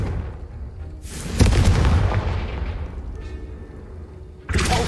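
A Confringo explosive spell from the game Hogwarts Legacy bursts with a sharp, heavy boom that decays into a rumbling roar, followed by a second sudden blast at the end.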